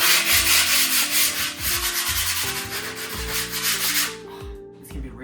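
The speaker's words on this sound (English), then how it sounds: "sand the grip tape down" Close, loud sanding of skateboard grip tape, a harsh rasping scrape in quick repeated strokes, with a low hum underneath.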